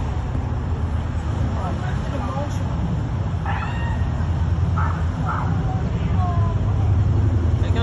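A cat meows from a giant outdoor screen in Tokyo at dusk, several short wavering mews scattered through steady street and traffic rumble, moderately faint and set back, with people talking nearby.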